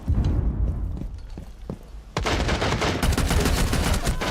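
Rainbow Six Siege gunfire from hip-firing, a few scattered shots followed by a sudden loud burst of rapid automatic fire that continues to the end, no talking.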